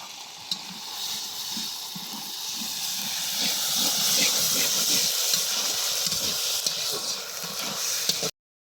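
Ginger, garlic and cumin sizzle and hiss steadily in hot oil in a village kitchen, a continuous close frying crackle with faint stirring taps and no talk.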